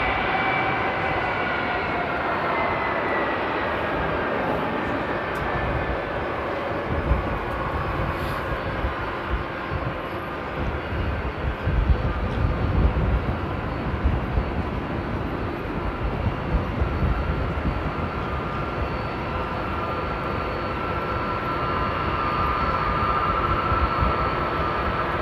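Steady, loud roar of Airbus A330 airliner engines at Amsterdam Airport, a broad rumbling whoosh that holds constant throughout with slight swells, no voices.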